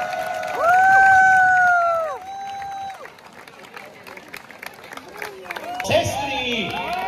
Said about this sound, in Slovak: Veľký potlesk!